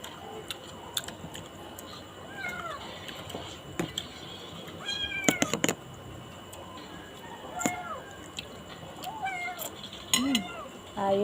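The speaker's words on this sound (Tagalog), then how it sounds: "May maliit kaming pusa." A small, newly adopted cat meows repeatedly in short rising calls throughout, fairly close, against a home background with faint ticking and light clatter.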